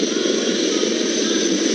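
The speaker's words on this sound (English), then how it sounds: "A lone helicopter, rather 3 helicopters in Vic formation as they move forward" Three helicopters fly over in Vic formation at India's Republic Day 2024 parade, giving a loud, steady, unbroken engine and rotor roar with no talking.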